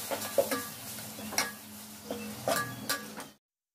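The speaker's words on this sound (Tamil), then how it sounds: "இப்போ இஞ்சி பூண்டு நல்லா வதங்கிடுச்சு." Ginger garlic paste sautéing in a pan while biryani is prepared, with repeated spoon stirs and clinks against the metal over a low sizzle, several distinct scrapes close by, then abrupt silence.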